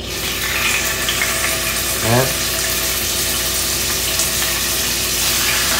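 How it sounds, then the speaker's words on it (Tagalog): Onions and thin slices of beef steak frying in a pan: a loud, dense, continuous sizzle heard close up, with a brief squeak-like tone partway through. "pwede na natin itong i-fry"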